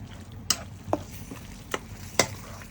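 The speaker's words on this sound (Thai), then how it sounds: "คั่วให้มันแตกมันให้มันหอม" Curry paste with pounded fish, fingerroot and ginger is stir-fried in oil for a thick Thai coconut curry sauce. A low, steady sizzle is broken by four or five distinct spatula scrapes and knocks against the pan.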